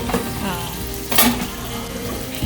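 Onions sizzle in a frying pan, being browned for aloo samosa chaat, a loud, close, steady crackle with a brief stirring scrape midway and no talking.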